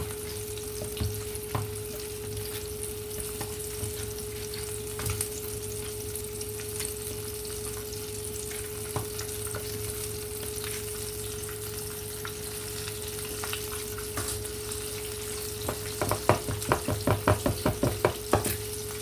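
Chicken fries in a pan with a constant close crackling sizzle, a steady hum running underneath and a cluster of sharper pops and stirring clatter near the end.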